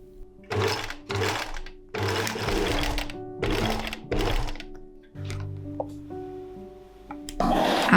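Sewing machine stitching the bodice seams of an autumn dress, running in several loud bursts of steady whirring separated by short pauses, with a softer stretch of slower stitching near the end.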